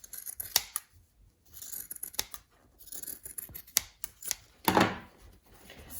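Scissors trim a fabric edge close up, making a series of crisp, irregular snips and short cutting scrapes with small handling rustles between them, quiet and without speech.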